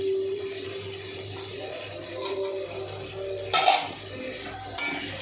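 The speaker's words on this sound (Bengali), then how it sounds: "এবার আমি এতে ভেজে রাখা চিংড়ি মাছগুলো দিয়ে দেবো" Fried prawns go into a pan of frying ridge gourd and potato, giving soft metallic scrapes and clinks of pan and utensil over a low background hum, with a couple of sharper clatters near the end.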